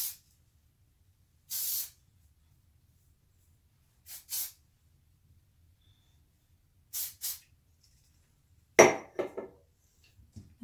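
A hair spray bottle gives short bursts at the roots, first one spritz, then two double spritzes several seconds apart, and finally a sharper spray with clattering handling. Each burst is a close, crisp hiss in an otherwise quiet room.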